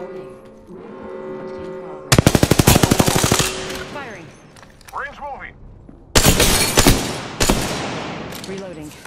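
Loud automatic gunfire in a battle royale video game, arriving as two fierce rapid bursts with a quieter spell between them and scattered shots near the end, while voices call out among the shots.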